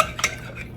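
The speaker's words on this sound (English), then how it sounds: "Let me get all that off my spoon, okay?" A spoon scraped clean of sour cream for banana pudding gives a brief clink and scrape of cutlery against a dish, one quick metallic tap standing alone in a quiet kitchen.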